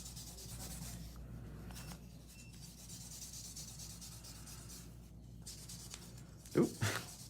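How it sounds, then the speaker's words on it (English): Acrylic nails are buffed with a hand file, giving a soft, steady rubbing scrape close by, followed by two brief louder knocks near the end. "Just gonna go through and just quickly buff it."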